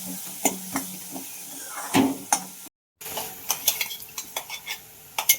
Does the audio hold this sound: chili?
yes